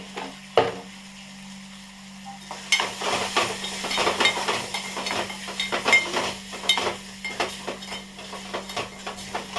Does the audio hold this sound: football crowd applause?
no